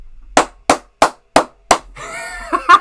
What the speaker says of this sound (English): appreciate the clap redeems, y'all